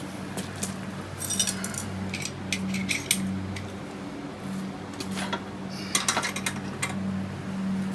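Metallic clicks and ratcheting of a wrench working loose parts on an old air-cooled Volkswagen Type 1 1600 engine left sitting outside for years, scattered clinks in short bursts over a low background hum, with no talking.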